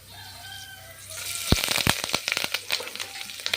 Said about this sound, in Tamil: வெந்தயம் லைட்டாக பொரிஞ்சு வரட்டும்